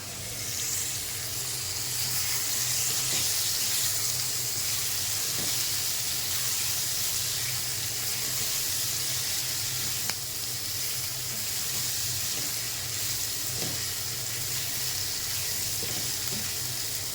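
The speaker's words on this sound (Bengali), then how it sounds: "মটরশুঁটি দিয়ে দিলাম।" Green peas sizzling in a pan of hot oil with whole five-spice seeds, a constant close hissing fry with occasional light stirring clicks throughout, no voices.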